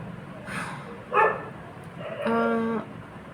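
A dog barks a few times in a quiet indoor space, first two short yips and then a longer, more tonal bark, with no one talking over them.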